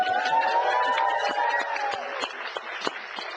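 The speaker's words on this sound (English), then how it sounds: "Give another little cheer." A small live audience at a Pecha Kucha talk gives a brief cheer with applause, steady crowd clapping and whoops fading slightly over a few seconds, fairly close.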